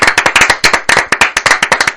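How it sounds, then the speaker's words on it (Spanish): A few people clap during a radio studio interview, giving sharp, close, rapid claps in an uneven rhythm for about two seconds with no talking over them. "vamos a darte un aplauso para empezar"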